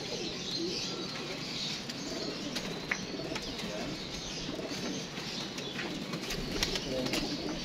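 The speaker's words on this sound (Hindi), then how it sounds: "ये जी 7वां कबूतर आ गया।" Pigeons coo and flutter as they arrive one after another, soft calls and wing flaps over a constant outdoor hum, with occasional faint chirps.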